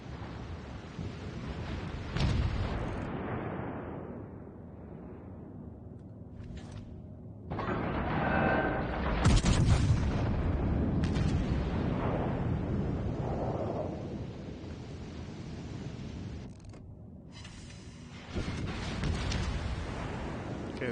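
Heavy naval gun salvos from warships in World of Warships Legends: deep, rumbling blasts break out in several loud bursts, each trailing into a long roar, separated by quieter stretches of engine and sea noise.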